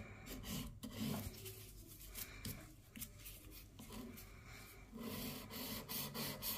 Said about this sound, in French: Tout doucement, vous allez venir, en fait, limer et remonter